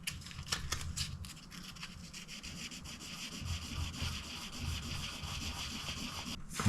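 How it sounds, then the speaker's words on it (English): Sanding rub on painted plastic from an IBM ThinkPad 600E laptop, a steady close scratching friction with quick back-and-forth strokes, fairly quiet, ending in a louder scrape. "I'll have to rub it down in a way that doesn't push too much dust into the speaker."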